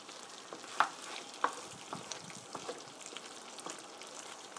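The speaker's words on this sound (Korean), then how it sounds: "자, 카레가 고루 퍼지도록 섞어 주시고요." Curry with meatballs and vegetables being stirred in a pan, made without added water: faint, soft sizzling with a few sharp clicks of a utensil scraping and tapping the pan, no talking.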